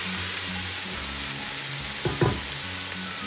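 Rice and lentils sizzle and fry with vegetables in a pan, a steady close hiss with a few brief stirring scrapes, no voices.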